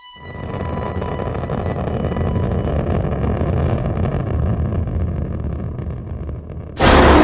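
Rocket launch carrying the Viking 1 spacecraft from Earth, a loud, sustained broadband roar that swells over several seconds and holds steady, then ends in a sudden harsh, louder burst of noise.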